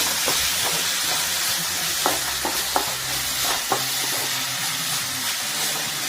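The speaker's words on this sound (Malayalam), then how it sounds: "ഇതിന്റെ പച്ചമണം മാറുന്നത് വരെ നമുക്ക് നന്നായിട്ട് തന്നെ ഒന്ന് മൂപ്പിച്ചെടുക്കാം" Ginger-garlic paste sautéing in a pan, a loud, continuous frying sizzle close up, broken by sharp scrapes and taps of the spoon as it is stirred and no voices.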